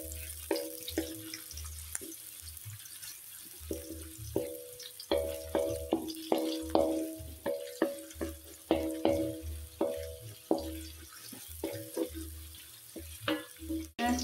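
Spice paste stir-fried in a pan sizzles softly under a rhythmic series of spatula scrapes and taps against the pan, repeating steadily.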